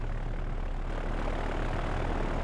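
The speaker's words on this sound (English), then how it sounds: "This is our B-29 in Enola Gay." A B-29 bomber's four propeller engines roar in a steady, dense hum in the game Victory at Sea Pacific, constant and close throughout without speech.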